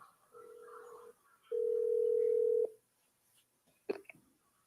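A phone call is being placed: two long steady tones sound one after the other with a short gap, and a faint sharp blip follows near the end.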